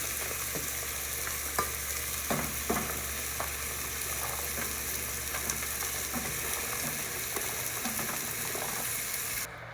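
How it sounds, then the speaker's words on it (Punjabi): Pumpkin sabzi with masala sizzles steadily in a small pan on low gas, with a spoon scraping and stirring at close range in repeated strokes, and no talking. "ਆਪਾਂ ਸਬਜ਼ੀ ਸਾਰੀ ਪਾਤੀ ਆ ਵਿੱਚ ਹਲਾਤਾ ਚੰਗੀ ਤਰ੍ਹਾਂ"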